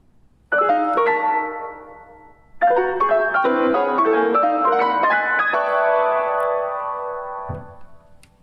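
Piano imitating the song of a Townsend's Solitaire, as in Messiaen's From the Canyons to the Stars: two bright phrases of quick high ringing notes, the second longer and fuller, sustaining and fading out over a few seconds, with no talking.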